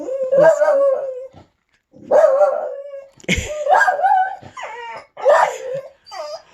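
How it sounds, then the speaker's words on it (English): A neighbouring dog howls and barks in several drawn-out, whimpering bursts separated by short silences, fairly loud and clear with no talking. "Rocco, did you hear the neighbor dog?"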